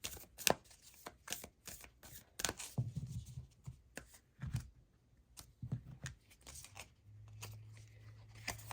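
Moonology Oracle cards are shuffled by hand up close in a series of crisp, rapid snapping riffles, with a faint low hum entering near the end.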